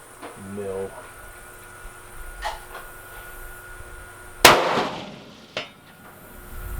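A rifle fires at a 300-yard target. A single sharp, loud crack rings out partway through, followed by a fainter distant impact or echo. Quiet outdoor ambience surrounds it, with brief voice at the start.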